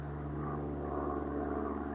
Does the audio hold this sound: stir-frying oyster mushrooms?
no